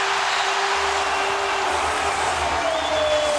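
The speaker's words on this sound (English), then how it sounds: "This crowd is loving it." A basketball arena crowd at a Nets game against the Bobcats roars and cheers in a steady, loud wash of noise that lasts the whole stretch, with a low hum underneath and no clear voices on top.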